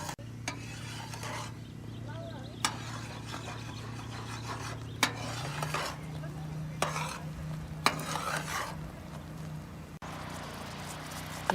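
Coconut milk with salt simmers and reduces in a pan, giving a steady soft bubbling sizzle with repeated scraping stirs of a utensil against the pan.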